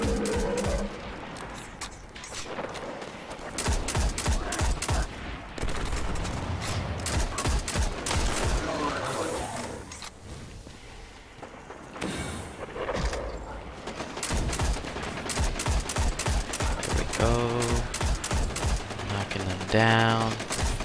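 Rapid automatic weapon fire rattles almost continuously in the video game Destiny: The Taken King, with dense bursts and short gaps during a Hunter mission, mixed with other game effects.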